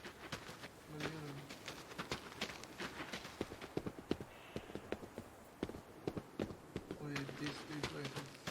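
Horse hooves clip-clop on the ground in the video game Adios, a steady run of sharp knocks at moderate distance with insects buzzing around and brief low voices mixed in.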